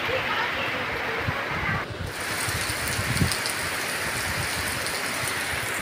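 Rain falls steadily on a village afternoon, a broad continuous wash with wind gusts and scattered heavier drops, loud and close throughout.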